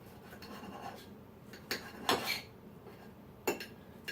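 A knife cuts through hot sausages on a hard surface in a kitchen, making a few sharp, close scrapes and clinks with quiet gaps between them.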